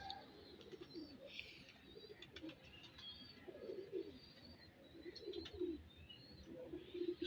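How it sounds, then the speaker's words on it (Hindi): Soft pigeon cooing repeats in low, rolling phrases, with faint chirps and a brief flutter of wings in the background. "ये जी ओरिजिनल कबूतर है"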